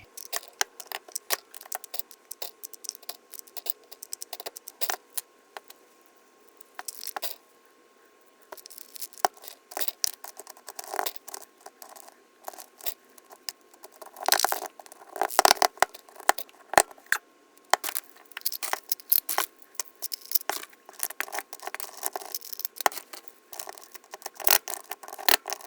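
Wooden pencil blanks clatter and tap as they are dropped one after another into oiled containers, a long run of sharp, irregular knocks and rattles, some in quick clusters, with brief quiet gaps between.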